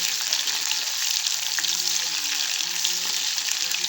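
Onions fry in a pan with a steady, close crackling sizzle while they are stirred.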